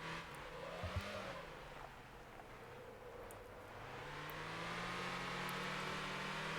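Race car in the Motor Town driving game during a formula event, its engine droning steadily and swelling louder toward the end, with a faint tire scrub as it slides around under continuous mechanical whir.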